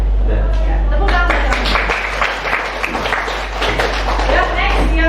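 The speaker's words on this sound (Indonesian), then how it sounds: "Tepuk tangan." Applause from students in a classroom, many hands clapping steadily for several seconds, fairly close and loud, with some voices mixed in.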